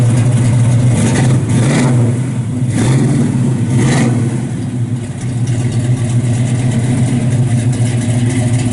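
Engine of a 1967 Chevrolet Chevelle SS 396 revving and idling nearby, a steady deep rumble broken by three or four sharp throttle blips in the first half before settling into a continuous low drone, with no talking.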